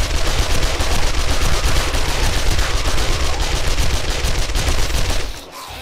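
Rapid, sustained submachine-gun fire in the zombie survival game 7 Days to Die, played on console at insane difficulty: dense automatic bursts running loud and continuous for over five seconds before cutting off abruptly.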